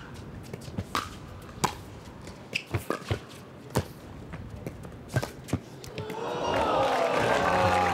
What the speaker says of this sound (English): The crowd applauding that effort out of JW.